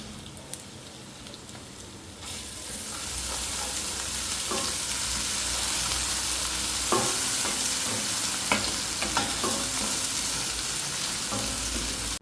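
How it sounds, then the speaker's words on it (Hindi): Onions and then ginger-garlic paste frying for a chicken potato curry, a quiet start giving way to a loud, close, continuous sizzle like heavy rain, with scattered clinks and scrapes of stirring. "बस प्याज ब्राउन किया और उसके बाद लहसुन अदरक का पेस्ट डाला, वो लाइट ब्राउन किया।"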